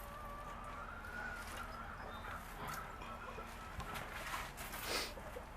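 Chickens cluck and call in a garden with lettuce beds and empty pots, a busy, continuous mix of fowl sounds close by over steady outdoor background noise.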